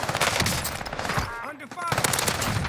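Rapid automatic fire from an Armaguerra 43 in a multiplayer shooter video game, with loud, close bursts and a brief pause in the middle.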